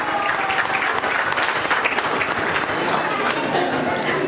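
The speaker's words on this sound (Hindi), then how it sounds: "जोरदार तालियां खुद के लिए।" Loud hall applause from the audience at a community Holi celebration and Women's Day event, a thick, continuous roar of clapping hands that holds steady throughout.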